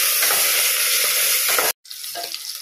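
Onions and green chilies fry in a hot pan with a steady, close sizzle and some stirring. A brief dropout comes near the end, and then the frying resumes a little quieter.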